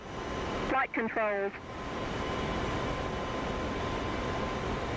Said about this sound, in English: Now we'll crank the left engine and turn on the onboard oxygen generator.